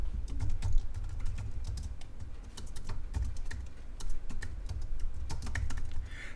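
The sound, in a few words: typing on a computer keyboard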